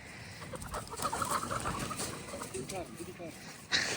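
Farm chickens cluck and murmur nearby, their calls rising and falling under ongoing talk, followed by one sudden louder squawk near the end.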